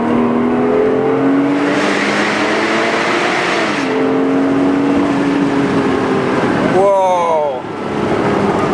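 A Porsche Boxster S accelerating in drive, its engine note rising steadily through the gears with a quick shift, loud and close from inside the car, with someone talking over it.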